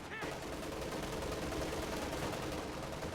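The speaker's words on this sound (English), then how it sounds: "Mortar here is firing on the riflemen." Wartime strategy game battle with a mortar shelling riflemen holed up in a house: a steady din of rifle and machine-gun fire with distant thumping blasts, continuous and rather faint throughout the short stretch.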